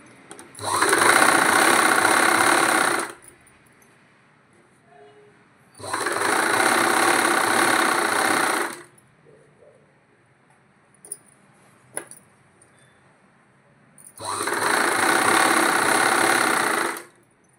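A sewing machine stitches cloth for Punjabi pant bottoms in three loud, steady runs of a few seconds each, a fast whirring buzz separated by quiet pauses with small clicks and handling noises.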